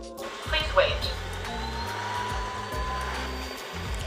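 A Dreame L10 Pro robot vacuum cleaner runs close by during a cliff sensor test, its motor giving a steady whirring drone with slight shifts in pitch throughout.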